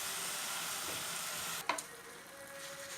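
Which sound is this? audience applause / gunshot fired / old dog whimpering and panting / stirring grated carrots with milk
stirring grated carrots with milk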